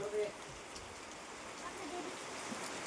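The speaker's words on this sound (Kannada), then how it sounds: "ಬಟ್ ಮಳೆನೂ ಒಂಥರ ಚೆನ್ನಾಗಿದೆ." Rain falls steadily in the hilly Malnad region near Chikkamagaluru, a faint, even patter with soft drips, while people talk briefly over it.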